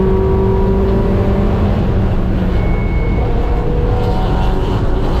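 An ST6 race car engine drones loudly and steadily under throttle on the NCM Motorsports Park track, heard from inside the car as a thick, continuous roar with no talking.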